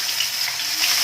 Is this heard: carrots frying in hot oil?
yes